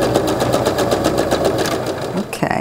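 A sewing machine stitches a quarter-inch quilt seam while piecing a card trick sampler quilt block, giving a steady rapid needle rhythm at close range that stops abruptly near the end.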